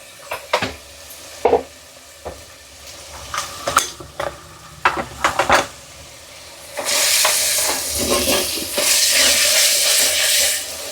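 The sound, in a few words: frying and stirring with turmeric in a pan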